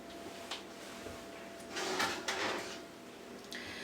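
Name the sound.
oven door opening to take out barbecue pouches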